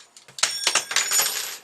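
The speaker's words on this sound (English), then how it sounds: "I'm sorry for that noise, some of these scissors." Metal craft scissors drop onto a work surface and clatter, a close, bright jangle of several rapid metallic hits over under two seconds.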